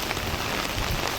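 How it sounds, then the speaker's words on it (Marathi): Heavy rain falls in a dense, steady hiss of drops on surfaces, loud and unbroken for a brief moment. "पाऊस किती जोरात चालू आहे."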